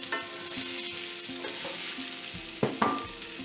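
Boiled, peeled baby potatoes sizzle in hot oil in a pan while being stirred, a continuous close frying hiss punctuated by a couple of sharp scrapes and clanks of the spoon near the end.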